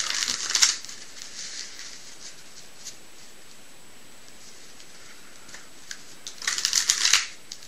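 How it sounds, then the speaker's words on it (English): A pack of playing cards shuffled twice by hand, a quick riffling burst, then a quiet pause before a second riffle, close and crisp, with no talking. "I'll give the pack a couple of shuffles to start off with"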